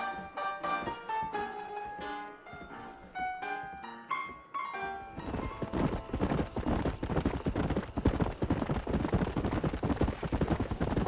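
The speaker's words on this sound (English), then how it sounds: "I got the horses saddled up and ready out front" Saddled horses trotting in Red Dead Redemption: after about five seconds of tonal music, a steady, close clip-clop of hooves drums on at an even rhythm, with a faint whinny.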